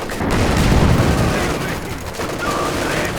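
Anti-tank gun fire in a World War II strategy game, sharp shots punching through hedgerows among a dense rumble of battle noise, booms and scattered gunfire, loud and continuous throughout.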